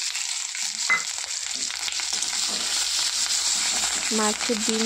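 Fish roe fries in a pan with onion and chilli, a busy close sizzle with stirring scrapes and clinks, and a few short tonal squeaks near the end.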